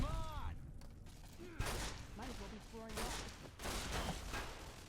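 Gunshots from Fallout New Vegas: a few sharp blasts with mechanical clanks and reload rattles between them, under a quiet voiced game dialogue.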